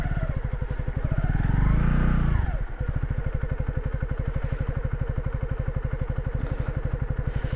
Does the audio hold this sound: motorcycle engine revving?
yes